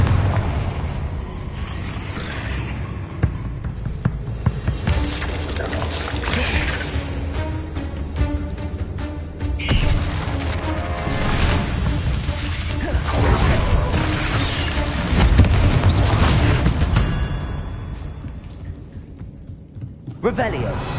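Booming Bombarda and Confringo spell blasts in Hogwarts Legacy erupt in heavy, rumbling explosions with crackling debris, several loud hits across the stretch while a voice occasionally speaks.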